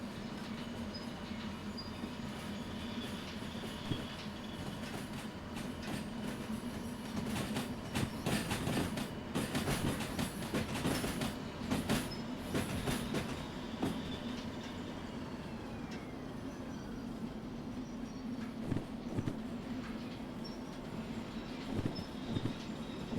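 Train rolling along rails in the Derail Valley railway simulator game, a steady rumbling run with rhythmic clickety-clack from the wheels and a few brief squeals and clanks, continuous and fairly loud throughout with no talk.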